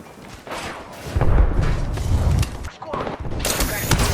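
Gunfire in a first-person shooter game on a map called Fade, with bursts, thuds and mechanical clatter running throughout, fairly loud, under occasional in-game voice callouts.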